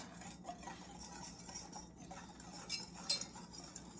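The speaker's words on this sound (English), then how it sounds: "All right, just mix that all up." Ground cloves and allspice are mixed into homemade pumpkin spice in a bowl, giving soft scraping and a few light clinks of a spoon against the dish, quiet and close.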